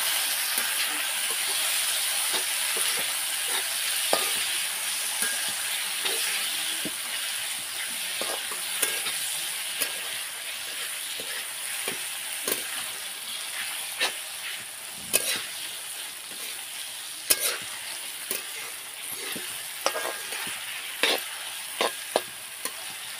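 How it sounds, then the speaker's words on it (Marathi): Chopped tomatoes sautéing in a kadhai on a wood-fired chulha for chicken bhaji, a steady frying hiss with scattered light clicks and spatula scrapes growing more frequent toward the end. "टमाटर कापून घेतले ते पण टाकून घेते मी त्याच्यामध्ये आणि परतून घेते."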